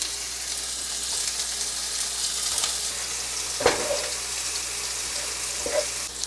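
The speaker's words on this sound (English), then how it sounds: "I totally forgot to cook the sausage. Okay, I'm also gonna cook the sausage." Cut-up sausage sizzles in a pan with a steady, hissing fry, broken by a couple of soft clinks and stirring sounds, close and moderately loud.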